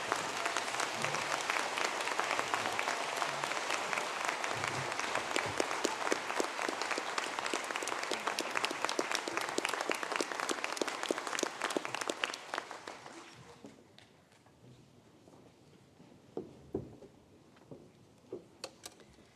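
A large audience stands and applauds graduates at a university conferring ceremony at ATU Sligo, the sustained dense clapping filling about twelve seconds before fading to scattered claps and quiet.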